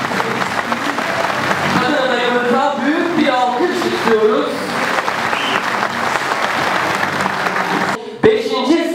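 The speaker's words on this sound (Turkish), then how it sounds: "Adayımız İbrahim Ertürk'ü alkışlarla Türkiye'ye davet ediyoruz." Loud, sustained audience applause welcoming a CHP political candidate at a Turkish campaign introduction event, with music and voices woven through the clapping before a sharp knock near the end.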